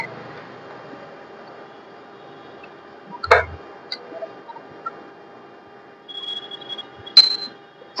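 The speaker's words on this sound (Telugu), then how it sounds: "పెన్ డ్రైవ్ పెట్టాక ఒక సౌండ్ వస్తుంది." An embroidery machine gives a short, thin electronic beep after a pen drive is plugged in. A few clicks and taps come before it in an otherwise quiet room.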